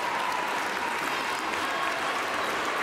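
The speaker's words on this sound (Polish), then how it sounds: "Dziękujemy, duże brawa." Steady, dense applause from a crowd in an arena at an international tournament medal ceremony, a continuous wash of clapping throughout.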